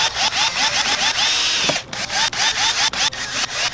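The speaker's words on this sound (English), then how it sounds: "put it up against the side of the amplifier like this, drill my holes" Power drill boring holes beside a car amplifier during a Toyota Corolla stereo install: a loud, close, whining motor in repeated pulsing bursts with one brief pause.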